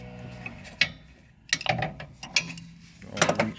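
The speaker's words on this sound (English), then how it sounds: "I'm gonna use this long extension with a deep socket 14 mil" A ratchet fitted with a long extension and a 14 mm deep socket works on the wheel-bearing area of a 2010 Kia Soul, giving scattered bursts of close metallic clicking and clinking between quiet gaps.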